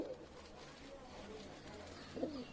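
A Sirazi pigeon in a loft gives a faint, low coo, with a brief soft call near the end under quiet background noise.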